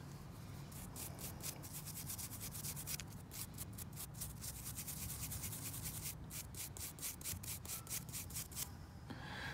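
Found silver coin rubbed back and forth outdoors after being dug up, a steady close scraping with rhythmic bursts, no talking.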